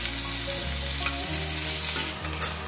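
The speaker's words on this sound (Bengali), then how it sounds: "ইলিশ মাছের এগুলো মাথাগুলি সব ভেজে নিচ্ছে।" Hilsa fish heads sizzle and crackle in hot oil, a close, steady frying hiss over a low background hum, with no talking.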